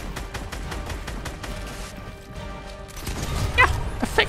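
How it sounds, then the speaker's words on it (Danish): Gunfire in the Fortnite video game, a dense spray of rapid shots running through the whole stretch, loud and close, with sharper bursts toward the end. "Der er skud her."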